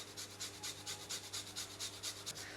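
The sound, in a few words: grating fresh ginger into yogurt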